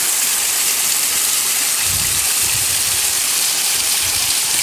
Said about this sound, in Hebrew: יש כאן מפל בנחל הזה